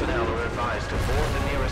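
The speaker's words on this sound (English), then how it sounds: "They're detonating the nukes!" A nuclear warhead detonating in the SCP:VR video game gives a dense, roaring blast that holds steady and loud throughout, with a voice shouting over it.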